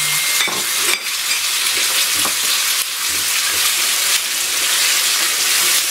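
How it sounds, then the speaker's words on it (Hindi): Loud, steady sizzling of chicken for jalfrezi frying over high heat in a hot pan, with occasional stirring scrapes and bursts of crackle throughout. "आप चिकन डाल दें"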